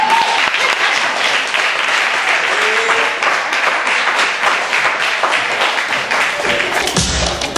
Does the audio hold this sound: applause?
yes